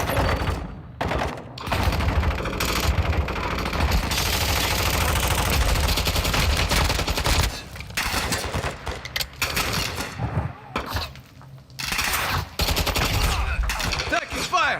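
Sustained gunfire in the Call of Duty DMZ video game, loud bursts of automatic fire rattling almost continuously with brief gaps, alongside game effects and occasional voice lines.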